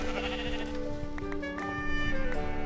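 Grey sheep in the Minecraft video game bleating in short wavering cries, several calls overlapping over a tonal music background, fairly close and clear.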